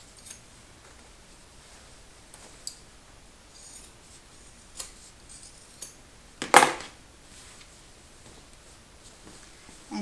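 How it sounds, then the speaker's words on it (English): Scissors snip off the fabric corners of a sewn tote bag base beside the stitch line, a few faint isolated cuts with one sharper, louder snip in a quiet room. "And then you can go ahead and trim off those corners to the right of the stitch"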